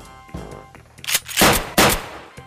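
Gunfire from Resident Evil while shooting at zombies: a few soft shots, then two loud, close bursts of rapid fire ringing out over a faint game background.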